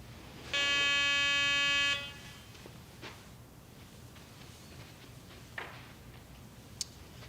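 A Garrett walk-through metal detector gate at a security checkpoint sounds a steady electronic buzzing alarm for about a second and a half, loud and close, followed by a few faint clicks and ticks in a quiet room.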